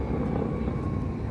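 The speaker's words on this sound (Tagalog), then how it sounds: "Ang layo ng helicopter." A helicopter far off produces a steady, low rumbling drone that stays even and fairly faint throughout the short stretch.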